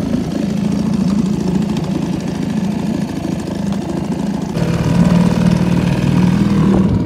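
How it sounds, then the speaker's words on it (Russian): A small 2.5 horsepower outboard motor on an inflatable boat on a lake runs steadily close by, a continuous buzzing drone that grows a little louder and shifts pitch partway through. "Надувная лодка. Моторчик"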